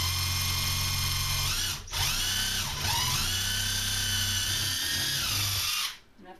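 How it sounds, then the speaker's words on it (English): A power drill whines steadily at high speed, dipping briefly twice under load as it bores through a cabinet door, then winds down and stops near the end. "when I'm using a drill, I want to make sure that I'm going straight in,"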